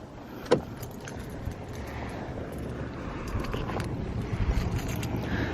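Keys jangle close by as a John Cooper Works carbon Mini is unlocked, with a sharp click near the start and then light rustling and shuffling of keys and clothing. Nobody speaks.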